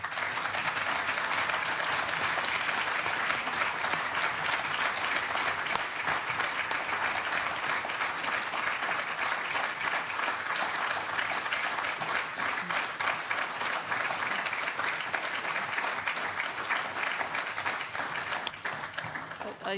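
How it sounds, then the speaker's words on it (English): Sustained applause fills a European Parliament committee room, a dense steady clapping from many people that holds for the full length and tapers slightly at the end. "It's not very, very common that we have applause in this committee"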